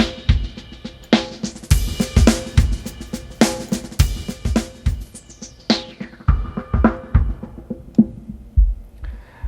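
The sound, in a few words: traditional drum loop through Resfilter plugin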